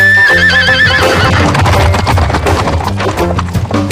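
A cartoon horse gives a loud, bright whinny, then its hooves clip-clop in a quick running rhythm under music, the galloping continuing close and steady to the end.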